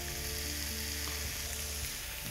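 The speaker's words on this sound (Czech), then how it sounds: "A ty připravené špízy grillujeme na grillovací pánvi." Pork and pineapple skewers sizzle on a dry grill pan with a steady, close hiss and crackle that continues evenly throughout, with no voices over it.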